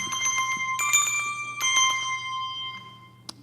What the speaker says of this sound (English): shaking the bell over the top, which again adds this nice counterpoint to the melody